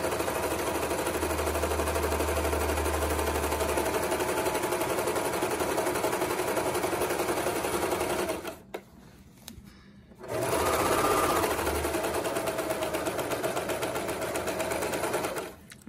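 A serger runs in a fast, buzzing mechanical rattle while finishing a fabric edge on a circle skirt, stopping briefly partway through before starting up again, close and loud.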